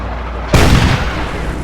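A tank cannon fires in World of Tanks, one sudden loud blast close by, followed by a rumbling, fading boom.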